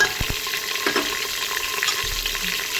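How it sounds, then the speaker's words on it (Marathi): Whole spices and ground masala sizzle in hot oil as a spoon stirs them, with a few sharp scrapes and clicks of the spoon against the pan over a steady close frying hiss. "थोडंसं आता हलवून घेऊ चमचने."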